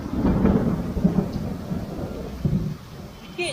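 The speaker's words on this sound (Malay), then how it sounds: "Hujan lebat." Heavy rain pours down during a thunderstorm on a road trip in India near Siliguri, a steady dense roar with low rumbling swells of thunder throughout, loud and continuous.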